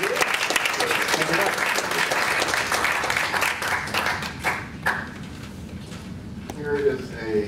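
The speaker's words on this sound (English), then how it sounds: "A smattering of applause rose up." Scattered applause from a modest audience at a Lions Club meeting, clapping that thins out and fades, followed by people talking.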